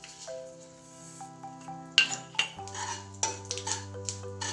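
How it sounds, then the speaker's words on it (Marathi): White sesame seeds are stirred in oil in a pan with a spoon, giving a series of clear metallic clinks and scrapes against the cookware over a faint sizzle, with no talk. "आता हे 2 चमचे पांढरे तीळ आहेत ते या तेलामध्ये परतूया।"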